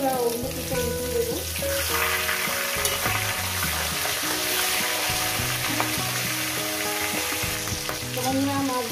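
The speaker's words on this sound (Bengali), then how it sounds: "মাছগুলো বন্ধুরা একেবারে ভেজে নিয়ে ফিরছি।" Rohu fish pieces frying in hot oil give a loud, continuous sizzle and crackle that runs unbroken throughout, close up and with no voices.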